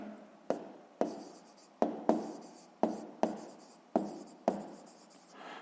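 Pen writing on paper for a sixth-grade math exercise, a series of about nine crisp scratchy strokes at regular intervals, close and fairly quiet, with no talk.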